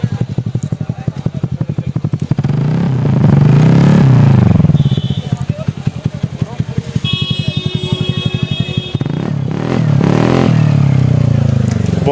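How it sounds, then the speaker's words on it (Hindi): TVS Ntorq BS6 scooter fitted with an SC Project MotoGP-style exhaust, revving close up with a deep, bassy burbling idle that swells into rising revs several times, with some rattling and clatter between blips. "एक बार मैं आपको सुनाता हूँ इसका एग्जॉस्ट नोट कैसा है।"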